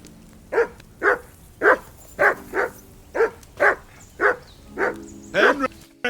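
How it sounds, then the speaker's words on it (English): A dog barks repeatedly in the medieval role-playing game Kingdom Come: Deliverance II, about ten sharp, evenly spaced barks over a few seconds, loud and close. "Call off that mutt of yours!"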